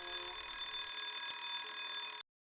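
A steady electronic intrusion alarm from a security demonstration panel rings continuously at an even level, then cuts off abruptly, with no voices present.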